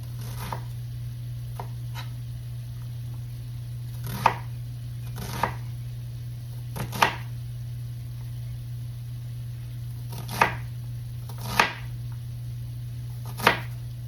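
A knife chops an onion against a cutting board in sparse, irregular strikes over a steady low hum, with no talking.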